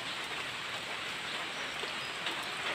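Steady rain falls during stormy weather on a spearfishing trip, a dense continuous hiss that fills the scene without talk.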